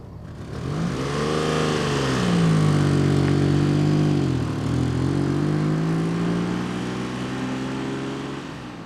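Citroën Maserati SM engine under way on the road, a loud continuous drone that rises in pitch as the car accelerates, dips briefly as it eases off, then climbs again, with no talk.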